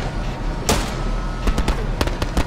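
A tank gun fires and strikes an enemy tank in the WWII game Hell Let Loose: one heavy blast followed by a scatter of sharp cracks and clanks over a constant engine rumble.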